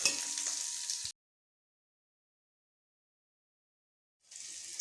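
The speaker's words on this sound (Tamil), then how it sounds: "வெங்காயத்தை வதக்கிக்கணும். 3 ஸ்பூன் எண்ணெய் ஊற்றிக்கலாம்." Onions sautéing in three spoons of oil give a steady sizzling hiss for about a second, then silence, before the frying sizzle returns near the end.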